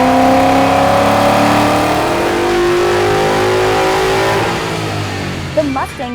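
A Ford Mustang GT and Chevrolet Camaro SS V8 on a dyno, fitted with a cold-air intake and conical air filter: a loud engine holds a long rising rev, then drops off and blips briefly near the end.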